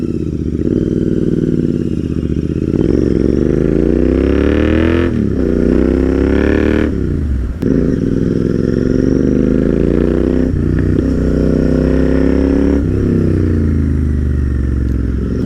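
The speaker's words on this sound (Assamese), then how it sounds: "এক্সজষ্টৰ চাউণ্ড কিন্তু মজা লাগিছে," A modified Royal Enfield Interceptor 650 with an aftermarket exhaust is ridden, its loud, close engine note climbing through repeated gear changes with brief dips between pulls, and no voices over it.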